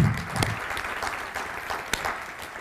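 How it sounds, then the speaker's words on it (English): Audience at a panel on broadband regulation gives one more round of applause for a commissioner, steady crowd clapping with a few sharper individual claps standing out. "we can give him one more round of applause"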